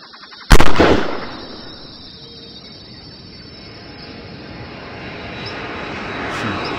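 One loud gunshot from an Android dinosaur hunting simulator game, with a sharp blast fading into a long rumbling echo over steady background ambience.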